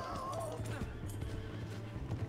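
A horse in the Red Dead Redemption video game lets out a loud, close whinny that falls in pitch, with faint hoof clops and background game sound underneath.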